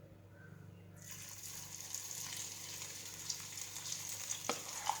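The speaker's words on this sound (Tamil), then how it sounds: "இப்போது வெண்டைக்காய் கலந்து வச்சாச்சு, மசாலாலாம் போட்டு கலந்து வச்சாச்சு. எண்ணெயும் சூடாகிடுச்சு. இப்போது எண்ணெயில் போடலாம்." Okra coated in masala goes into hot oil, bursting into a loud, sustained hiss of frying that builds after a quiet second and carries on with crackles, no talk.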